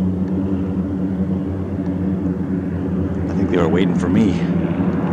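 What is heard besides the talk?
airplane taking off or landing near lake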